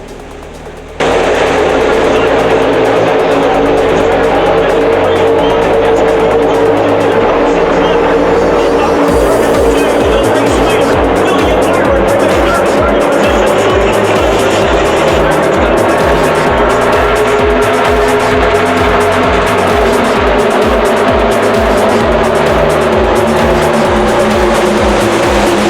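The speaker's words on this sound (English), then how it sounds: "the green flag waved and the Coke 600 was underway" NASCAR stock cars roar off at the start of the Coca-Cola 600, a loud continuous blare of many engines with crackling, rattling bursts, heard from close by at a speedway.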